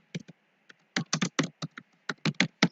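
Keys clacking on a computer keyboard while text is typed for a custom label design in Photoshop, with about a dozen quick, close taps in small irregular bursts and no talking.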